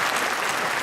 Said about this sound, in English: Let's give you all a round of applause for the service that you've given.